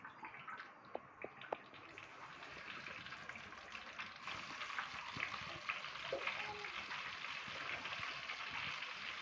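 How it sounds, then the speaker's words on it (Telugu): Green chillies frying in oil in a home kitchen pan, a steady soft sizzle that builds slightly partway through, with a few faint clinks early on and no talking. "ఇవి మనం నూనెలో వేసిన తర్వాత ఇలా వేపుకుంటూ ఉండాలండి"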